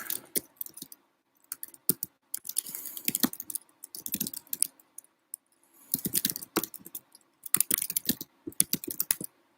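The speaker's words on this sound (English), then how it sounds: "I'm going to type in something here." Bursts of clicking keystrokes from a computer keyboard, typed close by in quick irregular runs separated by short pauses, with no talking.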